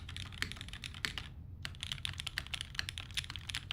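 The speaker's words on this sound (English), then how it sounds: "Feel-wise, they really don't feel that different when I'm typing on it." Rapid typing on a custom Daji Ocho Cuatro mechanical keyboard fitted with O-rings, a steady stream of close, crisp key clacks with a brief pause in the middle and no talk.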